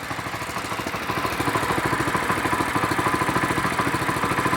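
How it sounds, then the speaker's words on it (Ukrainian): A walk-behind tractor's small petrol engine chugs close by with a fast, steady putter, its beat growing slightly louder as it settles into running after starting. "Завжди приємно чути, як відгукується двигун."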